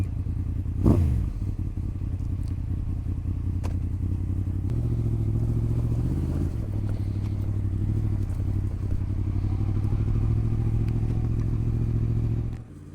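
A KTM 890 Adventure motorcycle on a winter ride toward the South Lakes, with a steady engine drone and wind rumble, a brief thump early on and small shifts in pitch as the engine note changes.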